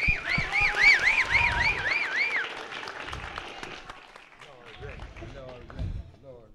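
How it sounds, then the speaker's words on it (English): An audience at a testimony gathering applauds to welcome a special speaker: a loud, dense burst of clapping with a whooping, wavering cheer riding on top, then thinning into scattered claps and voices. "Everybody, give a round of applause."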